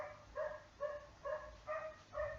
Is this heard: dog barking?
yes